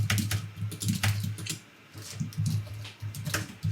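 Card number entered on a computer keyboard in rapid bursts of close, crisp keystrokes, a short pause in the middle, then another quick flurry of typing, with no talking.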